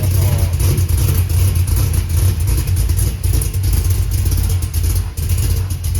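A pickup truck with a 3-inch stainless exhaust and straight-through mufflers rumbles loudly and continuously, with a deep, throaty note that rises and falls slightly as the engine is revved. It is close up and nothing else is heard over it.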